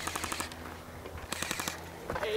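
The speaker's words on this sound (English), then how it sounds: "I was shooting at Matt and then freaking Ty shot him from out of nowhere." Airsoft guns fire outdoors in quick rattling volleys of snapping shots, fairly faint and distant, in two clusters over steady background noise.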